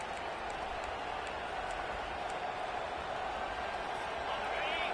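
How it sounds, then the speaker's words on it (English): Stadium crowd in College Football 25 at a Georgia Tech game, a dense steady roar of cheering and noise holding level throughout, loud and continuous. "How about this crowd rattling the rafters and trying to help their defense?"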